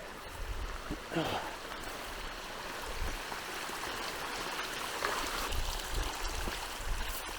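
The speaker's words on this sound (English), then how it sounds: "Across this river here." A river crossed on a hike near Hidden Lake in Banff National Park, its flowing water a steady broad rush, with a few bumps and footsteps close by.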